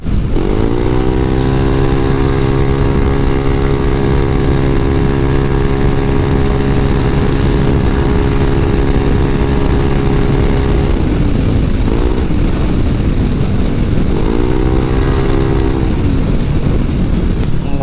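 A stock Yamaha Aerox scooter engine revs up loud and close, holding a rising whine for several seconds, easing off, then accelerating again in a second burst.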